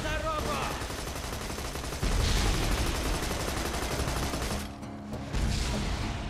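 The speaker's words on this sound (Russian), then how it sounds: "Хорошие взрывы." In the video game Borderlands 2, dense gunfire and explosions roar continuously at high level, with sharp bursts and booming blasts layered over one another, a short lull near the end before the shooting resumes.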